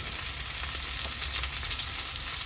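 Carrots and beans for a paneer mixed vegetable dish frying in a pan, a dense, steady sizzle and crackle heard close up, with no voices.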